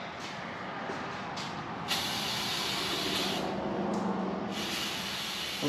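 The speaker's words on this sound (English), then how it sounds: "A brake cleaner." Brake cleaner sprayed from an aerosol can in a shop, a loud, close, continuous hiss that strengthens after a brief lighter start and holds steadily, with no talking.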